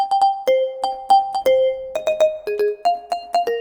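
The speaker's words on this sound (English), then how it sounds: "then I'm immediately going into some of the synth riffs" Bright staccato synth riff played on a keyboard, quick plucky notes in a bouncing melodic pattern, clear and close with no voices.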